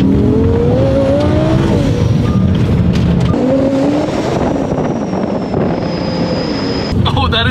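Lamborghini Sterrato engine rising and falling through gear changes while driving over icy snow, loud and close throughout with a second pass of acceleration midway, and a voice talking over it.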